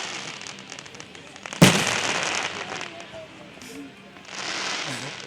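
A 4th of July fireworks grand finale: one sharp, loud burst followed by crackling that trails off, with a second swell of crackle near the end and people talking quietly underneath.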